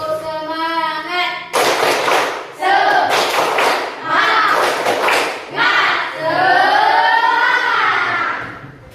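A group claps together in short rhythmic bursts, several rounds of loud, close applause with voices chanting along between them.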